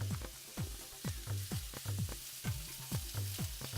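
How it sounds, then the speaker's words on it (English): Vegetables for shakshuka, a Tunisian egg and vegetable dish, sizzle in a little hot, smoking oil in a pan, with a steady frying hiss and repeated clattering stir or scrape strokes nearby. "our pan just actually starting to smoke, everything goes in. On the heat, a little oil."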